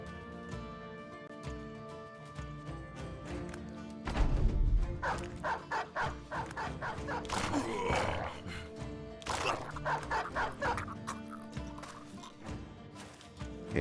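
A dog barks in the medieval tactics game Battle Brothers, with repeated sharp barks over several seconds amid battle noise and heavy clattering.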